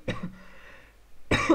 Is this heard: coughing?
yes